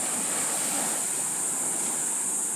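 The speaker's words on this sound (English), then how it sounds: "a moment ago, these waves were getting really, really big" Steady broadband wash of ocean surf breaking on a Costa Rica beach, continuous and fairly loud with no distinct individual crashes and no voices.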